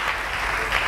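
Church congregation clapping in a dense, steady burst of applause, loud and close, lasting about a second.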